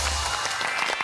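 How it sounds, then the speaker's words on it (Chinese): A studio audience at a children's game show applauds, a brief, dense patter of many hands clapping at moderate distance. "好，掌声鼓励"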